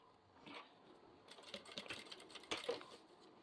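A sewing machine stitches a zipper onto fabric in short, quiet bursts of rapid mechanical clatter with brief pauses between runs, heard close and alone.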